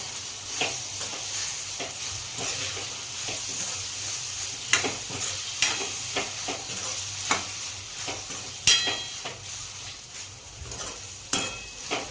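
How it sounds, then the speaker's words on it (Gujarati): Turmeric and coriander-cumin powder are stirred in a sizzling pan for sev tameta shaak, steady frying hiss underneath with a series of sharp scraping and clinking strokes from a utensil, close by and fairly quiet. "મિક્સ કરી દઈશું"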